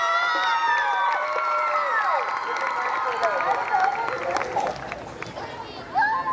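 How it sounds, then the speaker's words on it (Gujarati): A school annual festival audience claps loudly and cheers, a dense continuous roar of applause mixed with children's shouts and chatter that fills the whole stretch and swells again at the end. "જોરદાર તાળીઓ."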